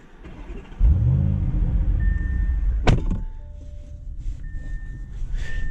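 A 2022 Audi SQ7 V8 fires up with a sharp starter crank and a loud rev flare, then settles into a steady, throaty idle heard close by, with no talking.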